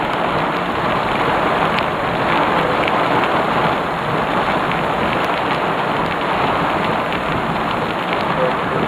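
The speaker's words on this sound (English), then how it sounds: "July 28th and another freaking storm." Steady heavy rain pours onto surfaces during a July thunderstorm in Pittsfield, Massachusetts, a dense, continuous hiss with no clear thunder clap standing out.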